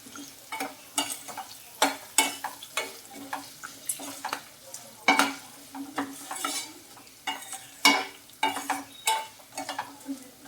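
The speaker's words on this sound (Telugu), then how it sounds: "మొత్తం అన్నీ కూడా బాగా ఫ్రై అవ్వాలి" A tempering of spices and a pinch of turmeric fries in a pan for citron pulihora, with a quick run of spatula scrapes and stirs over a steady close sizzle and no talk.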